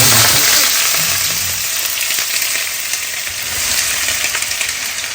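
Vegetables fry in hot oil with a steady, close, loud sizzle and crackle throughout, a dense hiss that holds without pause while a home cook prepares bhaji alongside rice.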